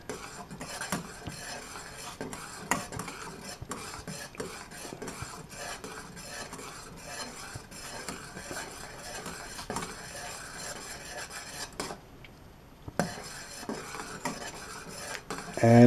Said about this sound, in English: I'm just going to let this cook for about 10 minutes probably as I'm stirring it